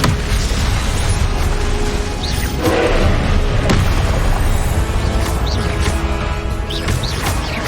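Repeated Confringo fire-spell blasts in Hogwarts Legacy, several loud booming bursts over a constant dense rumble of combat, with no talk.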